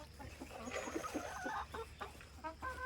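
Chickens clucking softly in a busy cluster while being fed corn in the morning, several birds murmuring and calling at once with a low background rumble.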